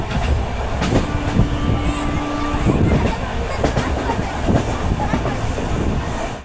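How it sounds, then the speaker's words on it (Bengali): A passenger train pulling away from a station after a long delay, its wheels rumbling with steady clickety-clack rhythm over the rails, loud and close from inside, with faint voices mixed in. "ট্রেন এখন সবে ছাড়লো স্টেশন থেকে"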